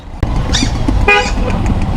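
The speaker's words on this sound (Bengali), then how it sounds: "আমার দুশো টাকার হর্নটা অনেক ভালো কাজে দিচ্ছে" Motorbike horn honking in road traffic, two loud close toots in quick succession over the steady rumble of the engine and traffic.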